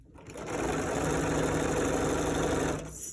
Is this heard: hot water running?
no